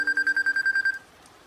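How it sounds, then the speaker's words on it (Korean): A mobile phone rings in a quiet room, a rapid run of about ten electronic beeps that stops abruptly after a second, moderately loud and close, with no voices. "하지만 내가 문을 채 열기도 전에 핸드폰이 울렸다"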